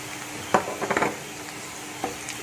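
Ginger garlic paste frying with onions in a pan, a soft steady sizzle broken by a few quick stirring scrapes and clinks.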